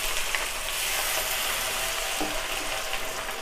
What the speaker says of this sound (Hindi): मीडियम फ्लेम पे हम अपने प्याज को भूनेंगे